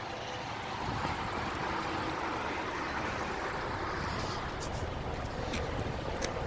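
A 2019 Nissan Altima with dual exhaust, parked at a car dealership, runs with a steady, fairly loud broadband engine roar that holds for several seconds with no talking over it.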